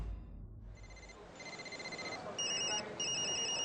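Telephones ringing in a commotion-filled apartment building, a steady electronic ring repeating in bursts over a busy room-tone background, moderately loud and without clear talk.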